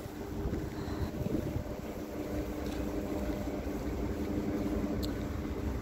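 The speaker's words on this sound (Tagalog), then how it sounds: "Kita niyo ba lakas ng hangin? Tinatabo yung snow doon." A steady, strong wind roars without pause during a snowstorm in Moscow, a broad rushing noise with low rumble from the gusts hitting the microphone.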